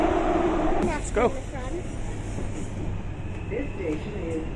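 London Overground train ride, a low steady rumble under nearby chatter and a brief squeal early on, the motion noise continuing moderately loud after the voices fade.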